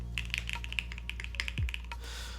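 Rapid clicky typing on a Fukuro keyboard fitted with Yukihana switches and Thai green PBT keycaps, a close, fairly even run of crisp keystrokes with a few heavier thocks.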